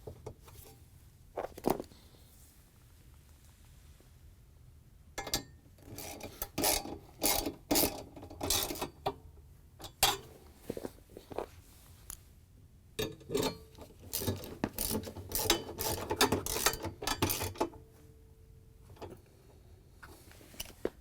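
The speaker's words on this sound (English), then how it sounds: "we can use our 10mm socket to put the screws back in" A ratchet with a 10mm socket drives screws into a bracket on a Samsung washing machine, giving quick bursts of close clicking that come and go in uneven runs, with no talk.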